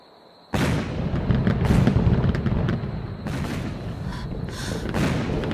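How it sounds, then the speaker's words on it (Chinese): Loud fireworks burst over a mountain after a moment of quiet, followed by a dense run of crackling booms and pops that continue without letup. "广寒门办什么喜事，放这么大的烟花"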